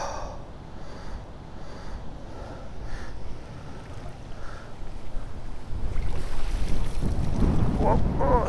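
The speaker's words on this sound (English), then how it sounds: "look at that bloody wind" Strong wind gusts across a microphone on a small fishing boat during whitebait netting, a low rumbling buffet that builds louder toward the end, with no talk.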